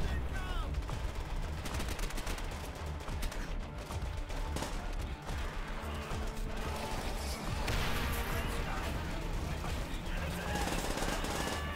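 Dense, continuous gunfire from Call of Duty: World at War on Veteran difficulty, overlapping bursts and blasts with a chaotic battle din throughout.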